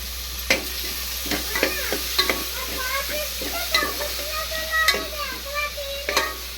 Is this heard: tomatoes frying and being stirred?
yes